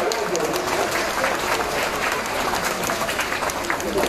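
Audience applause at a sea lion show, a steady crowd of clapping hands that stays loud and dense from start to finish with no break.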